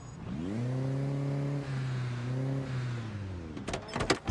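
A car in Project Zomboid pulls in to park near an armory, its engine humming in a steady, slightly wavering drone before cutting off, followed by a few sharp clunks at the end.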